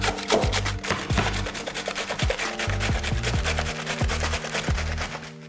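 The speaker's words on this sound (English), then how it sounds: "lovely red cabbage, and what we're gonna do is just grate that into here" Red cabbage rasped against the large slicing side of a box grater for coleslaw, a steady series of close, loud scraping strokes in a regular back-and-forth rhythm.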